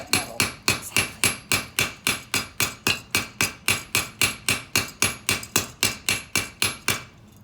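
A heavy hammer strikes a 22k gold ingot being forged, over twenty sharp metallic blows landing in a steady, even rhythm, loud and close with no talk.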